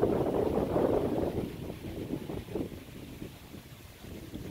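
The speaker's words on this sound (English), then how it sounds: "The wind is wonderful." Wind blowing across an open rural cemetery, a strong rushing gust at first that eases into steady, rumbling buffeting against the microphone.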